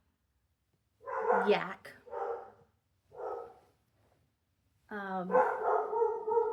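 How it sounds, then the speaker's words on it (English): Dogs bark indoors in a few sharp bursts separated by short pauses, fairly close. A person speaks briefly between and over the barks. "my dogs are so annoying"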